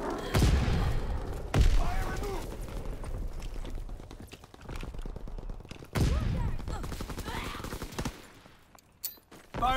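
Artillery strike gunfire in a Call of Duty: WWII multiplayer match on an Ardennes forest map, heavy booms and rattling bursts of shots repeating across the clip amid dense battle noise.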